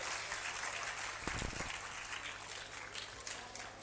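Audience applause greets a child contestant at a talent hunt program at the Arts Council in Karachi, Pakistan; a steady wash of clapping from a hall crowd, loud and continuous throughout.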